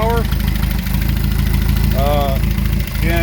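Steady close idle of a small engine in a 1963 Datsun 1200 320 pickup, a continuous rumbling drone with a few brief dips, while someone talks over it.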